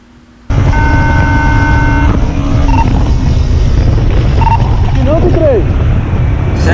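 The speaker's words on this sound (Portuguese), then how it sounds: "moto roubada, tenta se evadir dos policiais" Stolen motorcycle fleeing police in Parque Vitória Régia, Sorocaba, São Paulo, roaring loud and close with a continuous buzzing engine drone after a sudden start, with brief tonal whines over it.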